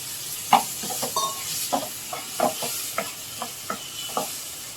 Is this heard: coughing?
no